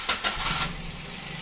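A Toyota Agya car engine cranks briefly with the starter, then catches and settles into a steady, close idle rumble.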